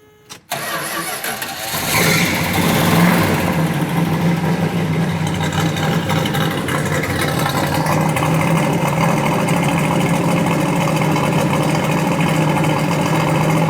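A 1970 Plymouth AAR 'Cuda engine cranks and catches, then settles into a loud, steady, rumbling idle that carries on without a break.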